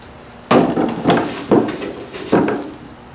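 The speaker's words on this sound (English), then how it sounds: "I've started sanding here with our 400 grit sandpaper" Wet sanding a car fender by hand with 400 grit sandpaper and water, four loud, close, rasping strokes spaced about half a second apart with no voices.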